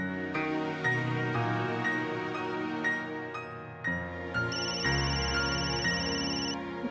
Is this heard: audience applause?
no